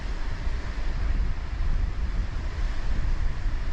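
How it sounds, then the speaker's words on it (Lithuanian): Wind and waves on the Baltic Sea shore, a couple of kilometres from the Stutthof camp, make a dense, gusty rush with uneven swells in loudness, close to the microphone and free of talk. "Baltijos jūra"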